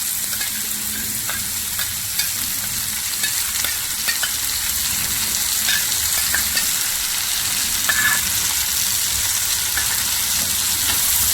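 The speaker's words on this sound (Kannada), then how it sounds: "ಈಗ ನಾನು ಸೋಯಾ ಸಾಸ್ ಮತ್ತು ರೆಡ್ ಚಿಲ್ಲಿ ಸಾಸ್ನ ಹಾಕ್ಕೋತಾ ಇದ್ದೀನಿ." Veg fried rice with soy sauce and red chili sauce fries in a hot pan, giving a loud continuous sizzle with scattered scraping stir sounds throughout, close up and without talk.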